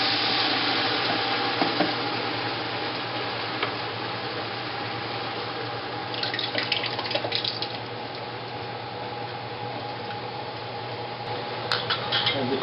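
Dry salsa ingredients for a hot West Texas salsa toast in a pan, giving a continuous dense sizzle and crackle, steady and close, with a few brighter spatters.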